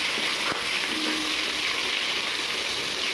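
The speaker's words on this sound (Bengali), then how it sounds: "সবজিগুলো আমি একটু লাল ভেজে নেব, বেগুন আলুগুলো" Potatoes and eggplant fry in oil left over from frying fish, producing a dense, loud, continuous sizzle up close with a faint clink near the start.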